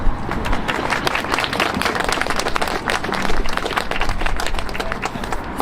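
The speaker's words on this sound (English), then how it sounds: "Okay, you can clap Connor's research on that." Dense applause from a crowd, steady and sustained throughout, many hands clapping at once without pause.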